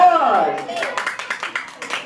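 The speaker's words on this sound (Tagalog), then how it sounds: "Let's give a big round of applause to contestant number 1" Scattered clapping from a small group at a child's 4th birthday party, greeting contestant number 1 in a game; a voice speaks at first, then a short run of uneven claps follows.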